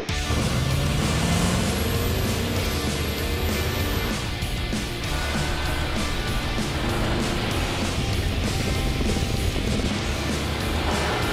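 Ford F-150, RAM 1500 and Chevrolet Silverado pickups towing 7,000-pound trailers uphill on Davis Dam Road at full throttle, giving a loud, steady engine drone with broadband road and wind roar throughout and no pause.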